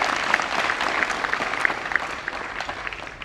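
Steady crowd applause for graduates of a technical training institute, a dense even wash of clapping at moderate level with no voices over it.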